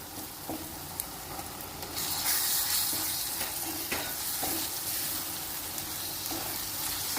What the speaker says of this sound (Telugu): ఇప్పుడు కట్ చేసి పెట్టుకున్న టమాటా వేస్తున్నాను